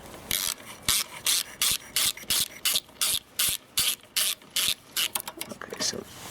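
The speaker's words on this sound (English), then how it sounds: "There's just three bolts here that just need to be removed." A ratchet wrench clicks in quick repeated bursts, a dozen or so even strokes, while loosening bolts on a Briggs & Stratton lawnmower engine, close and crisp with short pauses between pulls.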